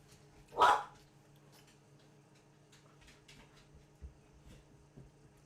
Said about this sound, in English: Let me see what my dog's barking at.